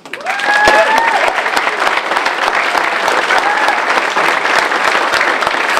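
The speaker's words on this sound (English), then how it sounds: "So I would invite a little applause for this." An audience gives a short round of applause, dense steady clapping that rises quickly and holds at a strong level throughout, with no talk over it.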